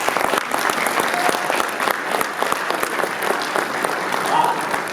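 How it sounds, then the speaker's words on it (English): Steady audience applause at a high school college signing day event, many hands clapping densely and continuously at moderate distance, with faint voices mixed in. "So let's give them a round of applause"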